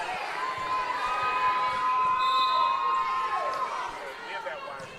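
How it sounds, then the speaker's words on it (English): Crowd at a St. Michael the Archangel versus St. Pius X state championship volleyball match reacts to a close line call, a sustained loud murmur with shouting and whistle-like tones, steady throughout with talking mixed in. "The St. Michael's crowd not liking that one."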